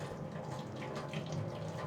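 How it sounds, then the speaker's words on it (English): Hot water tipped from a kettle over a coiled gas line for a home beer kegging setup, a steady continuous pour and splash running close and fairly quiet throughout. "Grab our kettle and tip some hot water"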